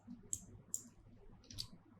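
Three crisp, quiet computer mouse clicks, spaced irregularly, while working in Revit software, close to the microphone over a faint room hush.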